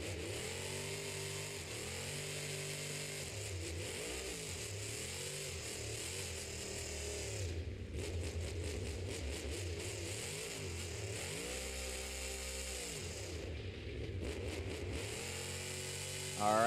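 Nightmare Jester monster truck's engine revving steadily at a Monster Jam show in New Orleans, a loud continuous roar with rising and falling pitch sweeps as the throttle changes.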